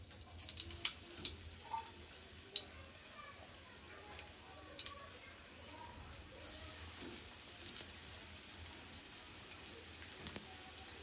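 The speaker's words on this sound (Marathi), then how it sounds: "आपण आता कोटिंग केलेले मासे आपण त्यात सोडूयात." Coated surmai fish slices sizzling in hot oil with curry leaves in a home kitchen, a steady, faint crackle with scattered pops running throughout.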